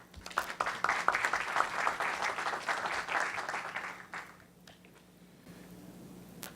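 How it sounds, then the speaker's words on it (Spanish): An audience applauds a speaker at a talk on drug policy in Peru and its effect on the prison system. Dense, steady clapping lasts about four seconds, then thins out and fades into quiet room noise. "Por favor, aplausos para él."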